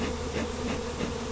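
A dense swarm of wild honey bees hums in a steady, loud buzz up close around a barn, with a slightly pulsing drone and no voices.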